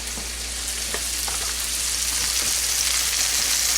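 Mahi mahi fillet frying in a pan, giving a steady, dense sizzle with faint pops and crackles throughout, close and even, with no voices.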